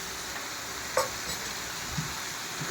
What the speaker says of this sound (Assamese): এতিয়া মই ফ্ৰাই কৰিম।